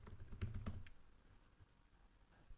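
Someone types a git status command on a computer keyboard: a quick, close run of key clicks early on, then a few faint, scattered taps.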